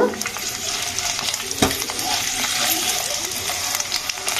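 Eggs fry in hot oil in a pan, making a loud continuous sizzle with spattering crackles and a sharp utensil knock near the middle.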